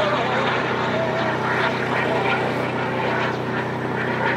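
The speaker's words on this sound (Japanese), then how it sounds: "ハーフスロットルで目の前に通過していきます" An RC model MiG-29 jet with vectored thrust passes close by at half throttle, giving a steady, loud engine roar that holds throughout with no voices.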